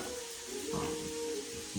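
Chicken tikka sizzles in a hot pan with a steady close hiss and faint crackle, running alone under a low hum without talk.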